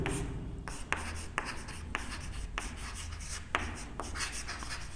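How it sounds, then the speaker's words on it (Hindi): Chalk or marker scratches across a classroom board in short, brisk strokes with small taps between them, close and fairly quiet, as a chemistry teacher writes out a formula; no speech over it. "मैं यहाँ पर लिख देता हूँ"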